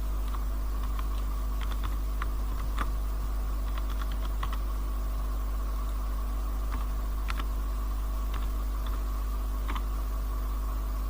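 Steady computer keyboard typing, bursts of light clicking keys over a constant low electrical hum, no voices.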